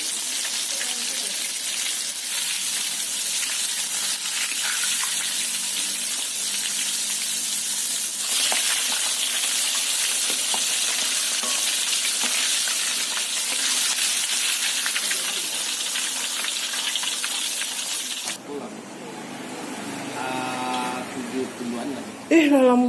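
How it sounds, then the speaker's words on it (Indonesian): Fresh shrimp and squid coated in seasoned flour are deep-frying at a Minang seafood stall, producing a loud, steady hiss of bubbling oil. Near the end the frying fades and voices come in. "udang dan cumi segar yang digoreng dengan tepung dengan bumbu yang istimewa lezatnya"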